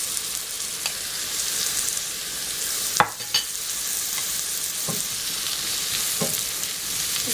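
Mushrooms sizzle steadily in rendered pork fat in a pan, with a dense, continuous frying hiss broken by a few sharp scrapes and clacks of stirring.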